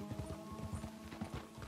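Horse hooves clip-clop in a video game, a quick, even run of muffled hoofbeats close by, fairly faint, with no talking during it.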